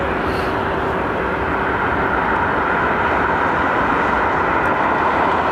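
A Vistara jet airliner at London Heathrow Airport gives a loud, steady engine roar close by for several seconds, with no talking over it.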